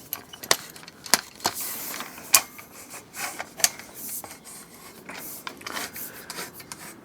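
An adjustable ceiling support rod from Lidl is pushed and adjusted in a garage, giving sharp metallic clicks and rasping scrapes at irregular intervals, close and fairly quiet, with no talking.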